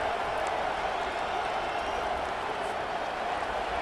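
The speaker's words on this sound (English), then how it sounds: "It is getting loud as this crowd tries to help its defense." A dense, steady roar of a large stadium crowd in EA Sports College Football 25 fills the space, constant and loud without distinct cheers or breaks.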